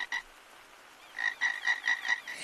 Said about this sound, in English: It's a creaky frog!